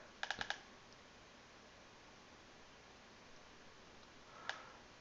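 A computer mouse clicks faintly and close by, a quick pair of light double clicks near the start and one more soft click later, over a steady hiss of background noise.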